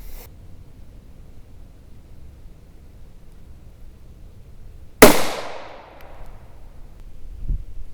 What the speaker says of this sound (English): the A17 ammo that we'll be shooting here in a second